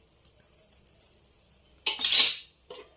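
Metal lid set onto a cooking pot in a home kitchen where greens fry with horse gram soup, giving a loud clattering clank near the end after soft cutlery clinks.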